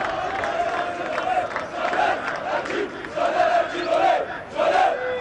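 Football fans at a Fenerbahçe team gathering in Samandıra chant a player's name in rhythmic, repeated crowd calls, loud and sustained across the whole stretch with rising and falling phrases.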